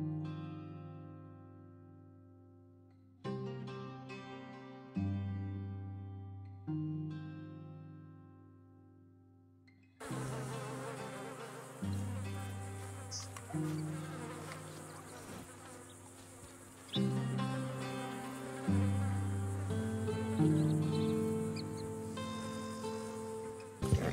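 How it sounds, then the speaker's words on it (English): Flies buzz around an animal carcass in Red Dead Redemption 2, a droning insect hum that starts, stops and returns in separate bursts before becoming continuous and louder, with no talking. "you can see flies begin to start buzzing around it"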